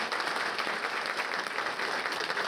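Banquet audience at the Mt. SAC Athletics Hall of Fame applauding steadily, a dense wash of many hands clapping at a moderate, even level throughout with no pauses.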